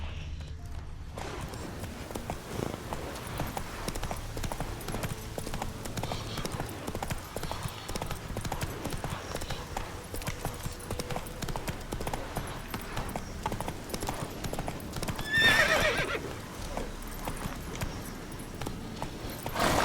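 Roach the horse gallops in The Witcher 3, hooves clip-clopping in a quick, steady rhythm at moderate loudness, with a brief burst of louder activity partway through and a voice speaking faintly.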